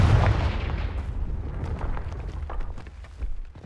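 Confringo explosive spell blast from the Hogwarts Legacy video game: a loud booming burst at the start, then rumbling crackle and scattered impacts trailing off, with no talk.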